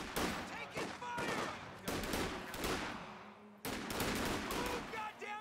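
Rattling small-arms and machine-gun fire crackles through a World War II battle in the strategy game Company of Heroes, with bursts in dense volleys, loud and close, with shouted voices and explosions.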